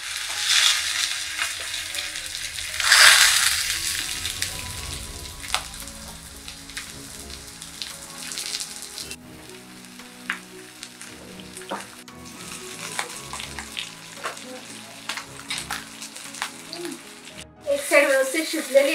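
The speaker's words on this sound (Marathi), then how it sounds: "आता त्यामध्ये भरलेला हलवा ठेवत आहे फ्राय करायला" Stuffed pomfret fish fried Koli style on an oiled tawa crackles and sizzles steadily, with a louder burst near the start and light clinks and stirring scrapes through the rest.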